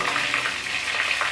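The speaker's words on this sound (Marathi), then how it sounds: "तेल गरम झालंय, जिरा आणि मोहरी टाकूया" Cumin and mustard seeds sizzle steadily in hot oil on a low flame, a dense, even crackling hiss that runs loud and close without a break.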